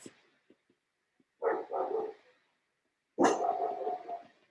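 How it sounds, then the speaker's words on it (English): Dogs bark close by in a quiet room, a few faint yips and then two loud bursts of barking with short gaps of silence between them. "the dogs are about to go crazy in a second"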